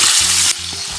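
Squid pieces sizzle hard in a hot pan while being stirred, a loud bright frying hiss that drops in level halfway through, with no talking.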